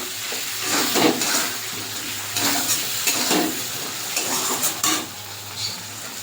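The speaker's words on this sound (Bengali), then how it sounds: "মশলাটা একটু কষিয়ে নেবো তেলের ওপরে অর্ধেকটা টমেটো আমি কেটে নিয়েছি দিয়ে দেবো" Tomato added to spice masala frying in oil, a continuous hiss and sizzle with periodic louder stirring scrapes, close and fairly loud, no talk.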